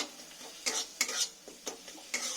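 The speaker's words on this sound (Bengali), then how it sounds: "ভালো করে মশলাটা কষে নেব" A spoon stirs spice paste in a pan while cooking a cauliflower, potato and catla fish curry, with several distinct scraping bursts spaced irregularly over a low hiss, close and fairly quiet.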